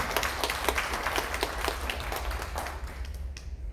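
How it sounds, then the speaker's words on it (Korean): Audience applause at a political lecture welcoming a lawyer speaker, a steady wash of clapping that fades slightly toward the end, fairly distant and moderate in level. "큰 박수로 부탁드립니다."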